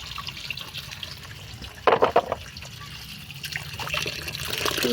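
Water splashes and trickles as freshly harvested organic turmeric roots are washed, with a short burst of louder splashing midway over a quiet background of running water.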